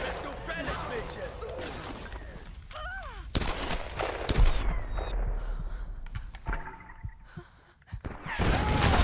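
Several sharp gunshots crack out amid Tomb Raider game sound effects and music, with bursts of blasts and a falling whoosh before a quieter stretch.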